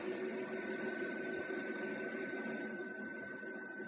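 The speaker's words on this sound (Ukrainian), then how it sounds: "Працюють вентилятори для охолодження самого інвертора." Cooling fans of a single-phase inverter run steadily, a constant whirring drone with a faint tonal whine, unbroken and close for the whole stretch.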